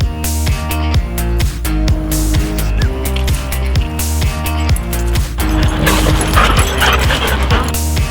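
Dogs bark and yip at the Mount Nebo Dog Park in Manchester, Connecticut, with repeated loud close barks and whimpers in an uneven rhythm over a busy, dense background.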